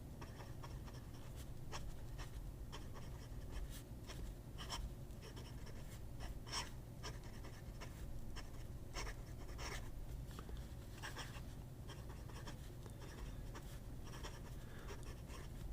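Fountain pen nib, sold as a Pen Chang, scratching across paper with a dry, chalky texture, a steady close run of fine strokes with short scratchy bursts throughout and no voices.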